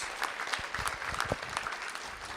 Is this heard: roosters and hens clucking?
no